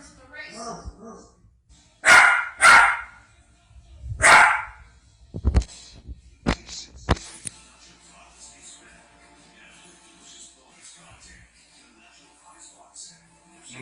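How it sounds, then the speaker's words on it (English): A tiny dog barks at people in a few loud, sharp bursts close by, then yips and whimpers more quietly. Speech is also heard under the later, softer sounds. "you bought a tiny little dog that barks at people"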